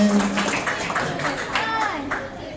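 Students clapping at a school event, a short burst of scattered claps under overlapping voices and children's chatter, fairly close and fading out after a couple of seconds.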